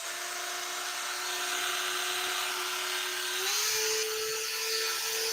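A small electric motor on a radio-controlled Tamiya 1/32 Supermarine Spitfire Mk.XVIe model whines steadily, its pitch stepping up as it is throttled higher, close and continuous with no talking.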